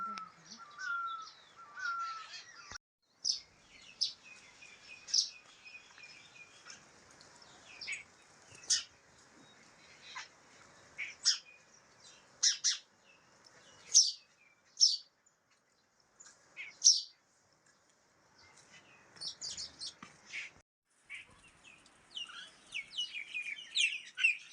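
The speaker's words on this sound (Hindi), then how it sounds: "आज बहुत चिड़िया हैं बगीचे में आई है मेरे" Birds in a home garden call and chirp over a long stretch, with crow-like caws and sharp tweets coming in scattered bursts, some near and loud, others fainter, against an otherwise quiet backdrop.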